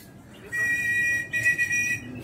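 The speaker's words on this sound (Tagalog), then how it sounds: "Sipul-sipulin lang natin dahil sanay yan sa sipol" A person whistles a short series of high, repeated notes to call pigeons, close and clear, with faint talk underneath.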